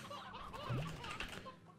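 Chickens in the video game Slime Rancher cluck softly over a busy game soundscape, one short clucking call standing out near the middle of the clip.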